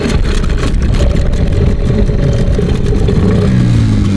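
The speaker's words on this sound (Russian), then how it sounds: "Мотор завелся с одного раза." A Tohatsu 9.8 outboard motor on a Flagman 330U inflatable boat, already running after a one-pull start, droning loudly and close with a rough, steady idle throughout, no talk.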